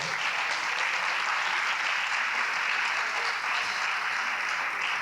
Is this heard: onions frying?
no